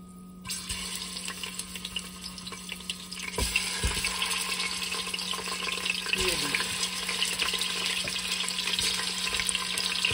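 Chicken legs, about one and a half kilograms, sizzling in hot oil inside a pressure cooker: a steady, dense crackle and hiss that swells after the pieces go in, with faint scraping of a utensil.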